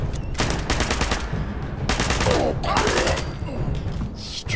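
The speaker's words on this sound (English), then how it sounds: "Wow, what a firefight." Rapid automatic gunfire in a Fallout 76 firefight, dense overlapping bursts of shots with booming low-end rumble, loud and continuous across the scene.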